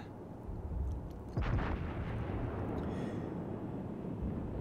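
Battleship main guns firing in World of Warships, with the South Carolina battleship: a single deep boom over a constant low rumble of engine and sea noise, moderately loud.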